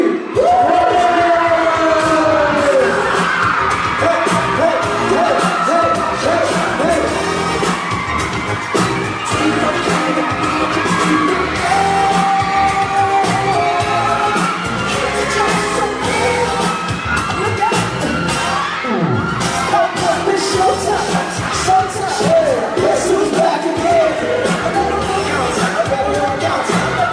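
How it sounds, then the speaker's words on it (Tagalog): Crowd of fans at a boyband fan day event shouting and cheering together on cue, loud and sustained throughout, with scattered whoops and children's voices in the mix. "On the count of three, sigaw na lahat ha."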